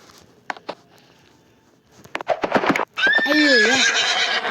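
A horse in a Roblox obby game whinnies loudly in a long, wavering neigh, preceded by scattered clip-clop hoof taps and small thuds.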